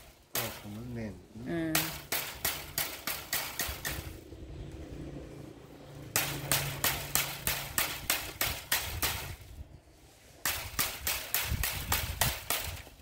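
A man taps woven bamboo strips tight while making a basket by hand, giving three long runs of rapid, sharp, evenly spaced knocks close by, with a brief voice at the start.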